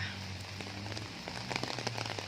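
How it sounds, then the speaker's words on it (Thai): Rain falls steadily on surfaces around a temple in Bangkok beside the Giant Swing, a dense close patter of drops with a low hum underneath and no talking. "ก็ลุยฝนกันต่อเลยค่ะ"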